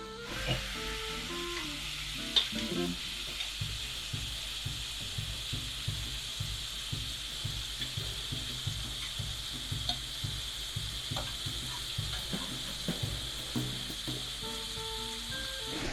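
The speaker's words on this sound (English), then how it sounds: "I think it's time to put the Vyprážaný Syr into the pan" Breaded Slovak cheese, vyprážaný syr, fries in a pan with a constant loud sizzle, accompanied by a regular rhythmic tapping or bubbling pulse and occasional clinks, with no speech.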